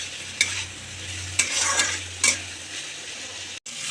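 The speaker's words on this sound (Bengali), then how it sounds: "এবার এইগুলো কড়াই দিয়ে দেব, দিয়ে একটু নেড়ে নেব। কাশ্মীরি লঙ্কা, টমেটো, রসুন, পেঁয়াজ, আদা," Ingredients sizzle and are stirred in oil in a kadai: Kashmiri chilli, tomato, garlic, onion and ginger, with a steady low frying hiss and three sharp scraping strokes of a spoon against the pan.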